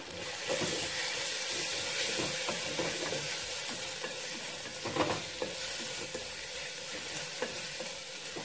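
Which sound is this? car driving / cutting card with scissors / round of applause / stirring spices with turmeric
stirring spices with turmeric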